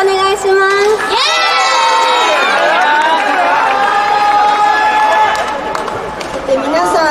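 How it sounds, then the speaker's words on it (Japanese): A live concert audience of young fans cheers and shouts loudly at a Japanese idol show, high-pitched voices blending into a sustained roar that swells and holds for several seconds before easing slightly toward the end. "皆さんすごい声援がすごく嬉しいんですけど"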